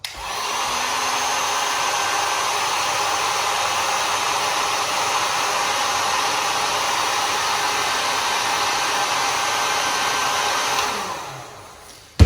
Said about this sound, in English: take either your heat gun or your lighter, and you're going to want to heat up this piece until it is secured to the threaded rod